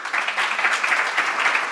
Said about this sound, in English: A hand of applause to you